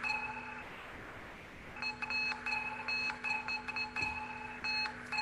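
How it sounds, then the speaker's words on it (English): A navigation app sounds electronic beeps to signal a recognized bus stop sign, a series of short, fairly faint tones repeating at an uneven pace over quiet background noise. "So this beep indicates that there's a bus stop sign is recognized."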